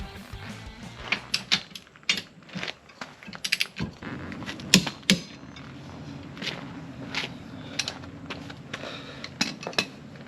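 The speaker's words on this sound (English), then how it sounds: "we'll go ahead and try and get the torque wrench on and see if we can get our 100 foot-pounds from these" A torque wrench tightening the wheel spacer nuts on a C5 to 100 foot-pounds, heard as irregular close metallic clicks, ratcheting and rattles against a low background hum, with no talking.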